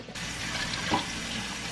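Water runs from a kitchen tap in a steady, even stream, being measured out for taco spaghetti, close and continuous without pause.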